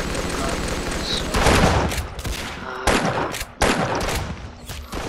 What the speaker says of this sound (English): God, I hate this Henry rifle.